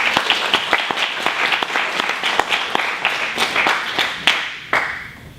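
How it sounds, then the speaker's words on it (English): An audience claps together in a dense, steady burst of applause that carries on throughout, with a few sharp louder claps standing out near the end. "Start with a clap."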